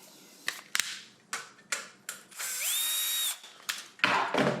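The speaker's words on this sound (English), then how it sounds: "We need to unscrew this." A small electric screwdriver whirs for about a second while unscrewing a screw on a GPU cover during an Antec AX61 Elite PC build, surrounded by sharp clicks and handling knocks close by.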